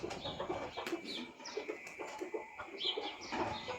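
Roosters and chickens cluck and call on and off at moderate distance, faint but continuous and without talking.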